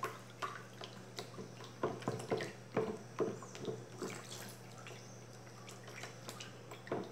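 Homemade tangerine detergent is beaten by hand in a basin, giving irregular wet taps, drips and sloshes in a quiet room, with a steady low hum underneath.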